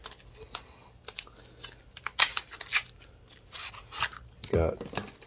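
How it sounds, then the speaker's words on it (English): A new deck of playing cards is unwrapped and opened, giving crinkly tearing and papery handling noises in short bursts, with a louder rip near the end. "Open up the deck."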